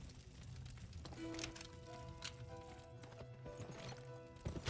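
Hooves clip-clop steadily on hard ground, a rhythmic clatter of horses walking nearby, with a sustained tonal hum in the background.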